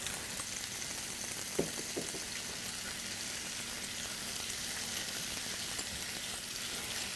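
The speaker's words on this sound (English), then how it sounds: "remember we're just cooking that bacon" Bacon frying in a pan gives a steady, even sizzle throughout, with a couple of soft knocks early on as pieces are handled, no voices.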